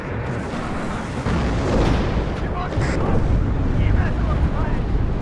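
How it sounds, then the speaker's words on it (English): Bombing strike explosions in the Cold War strategy game WARNO roll on continuously, a dense, loud, rumbling barrage of blasts that builds midway and stays heavy throughout, with voices speaking over it. "Nice bombing strikes."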